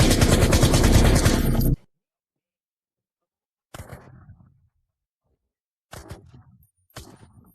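M61 rifle in the shooter game Arena Breakout fires a sustained loud automatic burst for nearly two seconds, then after a pause come three shorter, quieter bursts of shots.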